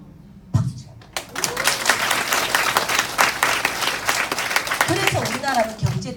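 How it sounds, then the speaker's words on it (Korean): A seated audience at a Nu Skin business seminar bursts into clapping after a brief quiet start, building into dense, sustained applause with a few voices calling out over it. "박수 쳐요"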